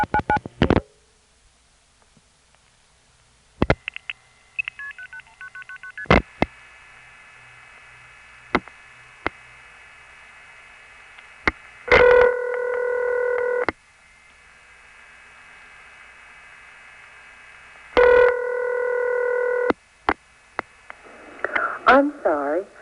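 Long-distance telephone test call routed through a crossbar 5 switch with an unusual resonant-connection signal: scattered clicks and ticks, steady line tones, then two bursts of rapid multi-frequency signalling tones followed by an operator-style recording, no live conversation.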